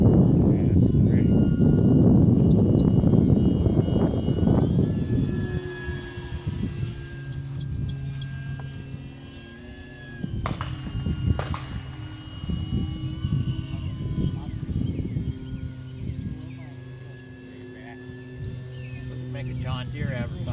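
An electric model aircraft built to look like a flying lawnmower, on its maiden flight outdoors: a loud, steady rushing propeller drone at first, easing into a thinner whining motor tone that wavers as it flies, with people talking over it.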